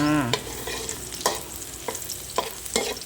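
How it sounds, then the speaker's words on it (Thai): Garlic frying in hot oil in a wok for a Thai stir-fried napa cabbage with pork, a dense steady sizzle broken by several sharp scraping clatters of a spatula stirring, close and fairly loud with no talking. "เจียวกระเทียมก่อนเลยจ้า"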